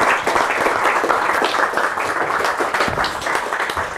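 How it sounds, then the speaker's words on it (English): Audience applause at a literary reading event, steady dense clapping from a crowd filling the whole stretch at even loudness. "So, big applause for Archipelago"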